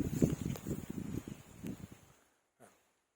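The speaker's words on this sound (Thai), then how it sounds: "ลมพัดนะครับ" Wind gusts through short Peterson avocado trees in an orchard on a sunny, windy day, making uneven rustling bursts that fade to near silence, with one faint brief sound near the end.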